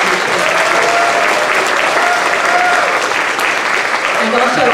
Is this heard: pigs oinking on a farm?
no